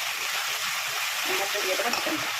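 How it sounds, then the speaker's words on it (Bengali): Onion already fried in a pan, now with garlic paste, ginger paste, a little coriander powder and dry chili powder added, sizzles in a steady, close, continuous hiss with no talking over it. "পেঁয়াজ ভাজা হয়ে গেছিলো, এর মধ্যে দিয়ে দিয়েছে রসুন বাটা, আদা বাটা, হালকা ধনে গুঁড়ো আর একটু শুকনো লঙ্কা গুঁড়ো।"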